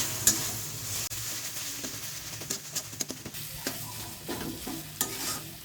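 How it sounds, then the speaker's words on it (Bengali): Mustard and poppy seed paste fries with spices in a pan for a fish curry, stirred continuously so a dense sizzle runs under repeated scraping and clattering of the spoon, close and steady. "এবার দেবো সর্ষে পোস্ত বাটাটা দিয়ে এক দেড় মিনিট মতন ভালো করে কষে নেবে মশলার সাথে"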